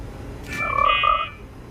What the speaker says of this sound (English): Yeah, it's the same sound the frog makes.